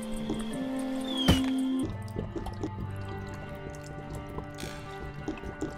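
Water being gathered in the video game The Supper: a drip-like liquid sound with a brief splashy burst, then softer squishy, gurgling trickles over a steady game tone, with no talk.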